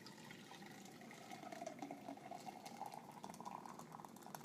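Homemade almond milk poured from a container, a continuous soft gurgling, splashing stream that stays faint and close for several seconds with no talk.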